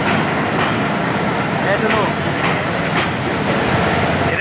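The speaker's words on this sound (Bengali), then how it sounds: "এই যে ট্রেন একটা অলরেডি আসছে" An arriving train rumbles loudly and steadily nearby, with rhythmic clattering of wheels on the rails and voices underneath.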